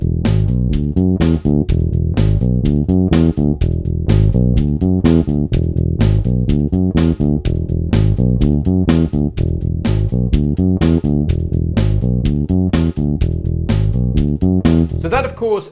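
Bass guitar plays a bass line, a loud, steady stream of repeated plucked notes in a driving rhythm with no talk, ending on a brief scrape.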